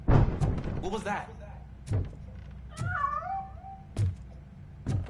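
A cat meows in the video game Robocop: Rogue City, with a drawn-out wavering mew in the middle, alongside in-game thuds and door knocks and someone talking over it.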